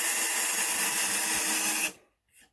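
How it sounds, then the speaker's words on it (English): A power drill fitted with a countersink bit cuts a screw hole in wood, whirring loudly and steadily for nearly two seconds before stopping abruptly, followed by a brief soft scrape. "I'm going to use a countersink drill bit. So I put my countersink drill bit on"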